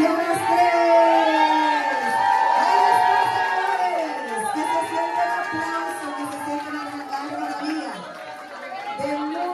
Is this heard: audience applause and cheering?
yes